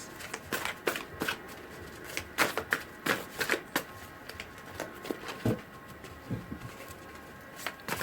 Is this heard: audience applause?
no